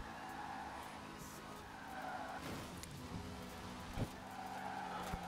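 A car in Forza Horizon 4 skids and spins out, tires squealing in a long continuous slide over the engine drone, with a sharper jolt near the end.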